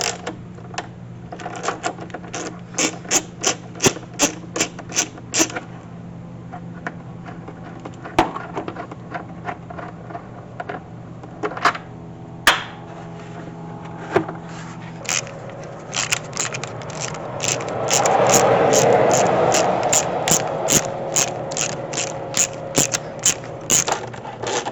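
A hand ratchet works a 10mm bolt loose near the ignition coils of a Lexus SC430, giving a long run of sharp, regular clicks up close, with a brief scraping rasp partway through and no talking.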